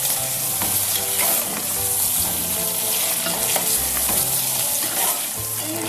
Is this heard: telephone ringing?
no